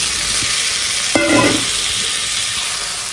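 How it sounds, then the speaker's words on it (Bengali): Spices stirred in a hot pan before marinated mutton goes in: a steady loud sizzle with one sharp metallic scrape and clang of the spoon against the pan. "এটাকে দিয়ে সেখানে নাড়াচাড়া করে নিলাম আর তা নাড়াচাড়া করার পরেই কিন্তু আমরা এর মধ্যে দিয়ে দেবো ম্যারিনেট করা মাটনটা"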